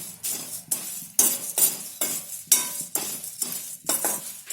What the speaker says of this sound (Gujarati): હવે આપણે એમાં મમરા શેકી લઈશું એમાં તેલ નથી નાખવાનું એમને એમાં શેકશું આપણે